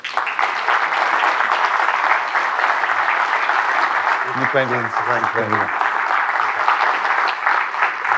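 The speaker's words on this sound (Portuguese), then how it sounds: "uma salva de palmas, por favor" Audience applause at a Porto talk event welcoming Professor Diogo Freitas do Amaral, a steady dense wash of clapping filling the whole stretch, with someone briefly speaking over it near the middle.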